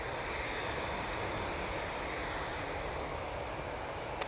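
A Helvetic Embraer E2 jet arrives from Zurich at Manchester Airport, a steady broadband engine roar holding evenly throughout at moderate distance, with no talk.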